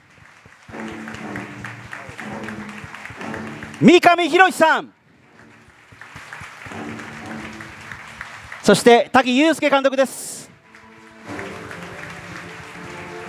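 An audience at a special screening event applauds the cast and director in two sustained bursts of clapping, with an announcer speaking over it and a voice rising clearly between the bursts.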